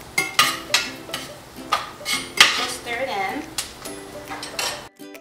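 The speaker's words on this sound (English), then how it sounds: "The onions are cooking up." Onions cook in a pot on the stove as a metal spoon stirs them, giving rhythmic scraping clanks against the pot every half second or so, loud and close.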